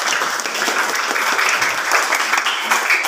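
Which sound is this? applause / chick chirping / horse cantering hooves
applause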